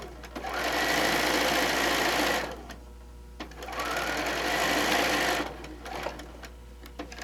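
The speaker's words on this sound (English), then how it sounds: "you would sew all of these strips down" A sewing machine stitches quilt strips in two long, steady whirring runs, with a short pause and a brief restart between them and no talk.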